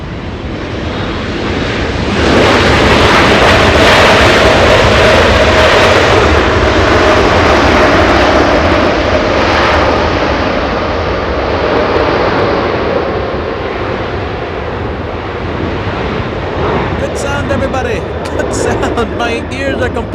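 A jet airliner with GE90 engines landing at Los Angeles International Airport with spoilers up and flaps down, a loud sustained broadband roar that swells and holds for most of the stretch before easing slightly, with faint speech underneath.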